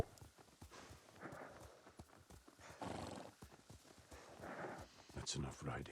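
Horse hooves clip-clop at a walk in Ghost of Tsushima, a steady rhythm of close, moderately loud steps with an occasional whinny, heard under ongoing dialogue from game characters.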